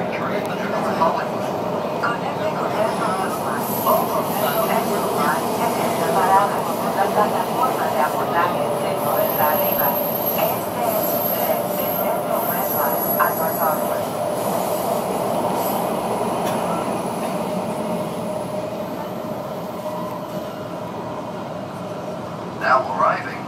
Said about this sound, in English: This is a red line train to North Hollywood